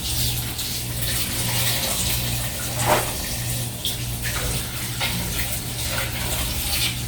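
Labong (bamboo shoots) washed under running water, a steady loud gush from a tap with brief splashes as the shoots are handled.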